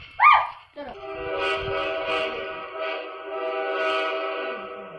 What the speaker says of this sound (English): Oh, the train's about to leave.